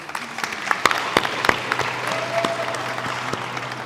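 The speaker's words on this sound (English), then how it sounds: "round of applause" Scattered, moderately faint applause from an audience in a main conference room at an African technology summit, a thin patter with a few sharp individual claps standing out and a brief voice underneath.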